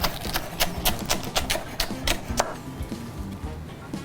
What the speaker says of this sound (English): And now I'll do the same for the rest of these scallions.